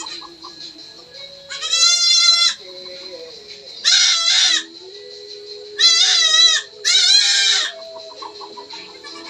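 Nanny goats bleat while being given injections after giving birth, four loud, wavering cries in separate bursts, each lasting about a second, with quiet pauses between.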